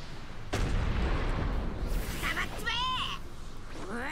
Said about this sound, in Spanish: Te meto la super bomba de energía, ¿eh?